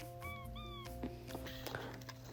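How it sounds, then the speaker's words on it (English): A house cat meows twice in quick succession nearby, short rising cries over a steady indoor hum. "and there's my cat again."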